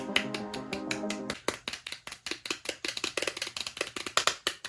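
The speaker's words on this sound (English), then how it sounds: "I don't know why I'm still clapping" A single person claps hands alone in a room, sharp distinct claps at first mixed with a tonal sound, then a steady run of close, crisp claps.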